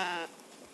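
A single short sheep bleat, moderately close and brief, among sheep and horses kept in a garden in winter, followed by faint ambient noise.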